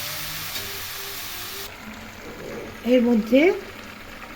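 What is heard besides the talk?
Bengali betho shak greens cooking covered on low flame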